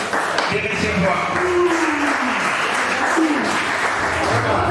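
An audience at a university cultural event in Mwene Ditu applauds, sustained clapping mixed with cheering and raised voices, loud and continuous across the whole stretch.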